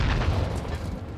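A precision airstrike explosion in Call of Duty: Modern Warfare on the small Shipment map, heard as a single sustained low boom that rumbles loudly, then slowly eases off.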